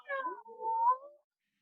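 A person imitates a cat's meow, giving one drawn-out, wavering mew with no other sound around it, during a children's storytime yoga session.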